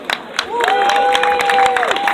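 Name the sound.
audience applause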